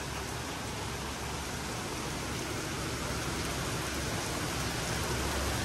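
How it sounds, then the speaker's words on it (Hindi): Heavy rain pours steadily during a flood in Chennai, a dense, unbroken hiss that stays loud and constant throughout with no voices. "इतना खतरनाक बारिश हो रहा है"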